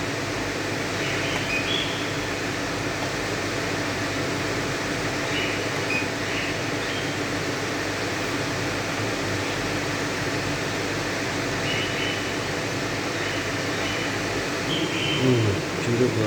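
A Murino E2 gas boiler hums and whooshes steadily after its heating is switched on, a continuous close mechanical drone with faint intermittent clicks, no talking.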